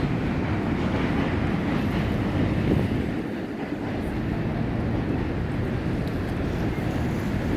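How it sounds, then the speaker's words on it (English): A train rumbles steadily across the Manhattan Bridge in New York, a continuous low roar of wheels and rails with a slight dip midway, fairly loud and constant. "you hear the Manhattan Bridge, the train going by"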